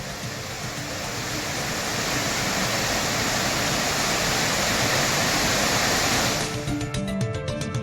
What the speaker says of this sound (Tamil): பெரியார் அருவியில் தண்ணீர் ஆர்ப்பரித்து கொட்டுகிறது.